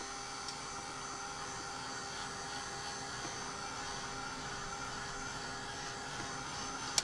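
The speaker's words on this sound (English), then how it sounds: "I'm going to go ahead and use my heat tool, and I'm going to dry this a little bit" A heat tool blows steadily to dry ink on a handmade Halloween holiday card, giving an even, unbroken whirring rush throughout with one sharp click near the end.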